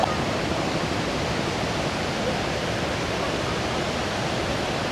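A waterfall pours down beside a big mountain, giving off a dense, steady roar of rushing water with no break and no voices.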